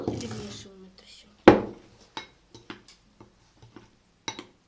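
Cookie dough for microwave cookies being stirred in a bowl, giving a few sharp clinks and scattered light taps of utensil against the bowl, with a voice talking briefly at the start.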